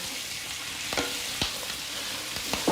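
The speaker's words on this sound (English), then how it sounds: "You're just gonna saute that until it's to the tenderness you like." Food sautéing in a hot cast iron pan gives a steady, loud sizzle. A few brief scraping stirs cut through it, heard up close with no voices.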